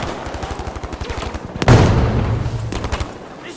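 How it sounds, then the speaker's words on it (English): Rapid, loud bursts of submachine gun fire in a video game shooter featuring the M1928A1 and Suomi KP/31, followed by a heavy explosive blast and a rumbling tail, then more shots further off. "Ich eröffne das Feuer!"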